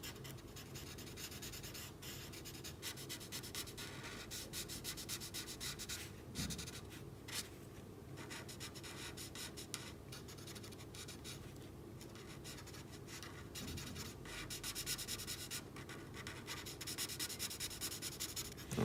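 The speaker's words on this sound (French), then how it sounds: "Donc c'est du gris, mais très clair, avec lequel on va colorier tout le bas de son visage." A very light grey colored pencil shading the lower face of a clown drawing on paper: a steady, close, dry scratching and rubbing that continues with short pauses and no voices.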